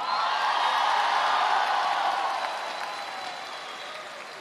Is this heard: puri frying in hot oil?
no